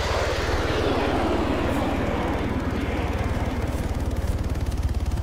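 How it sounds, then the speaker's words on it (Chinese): Fighter jet and helicopter flying overhead in the military game Arma 3, a loud continuous engine roar with a rapid low rotor-like pulsing that grows more pronounced toward the end, heard alone without talk. "然后听到战斗机和直升机的声音"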